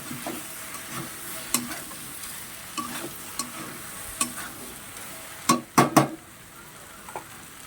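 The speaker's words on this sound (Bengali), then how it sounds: "তার আগে আমি সবজিটা ভালো করে নাড়াচাড়া দিয়ে নেব" Mixed vegetables fry quietly in a pan with prawns nearby, a low sizzle under repeated spatula scrapes and knocks, growing into a cluster of louder clattering stirs near the end.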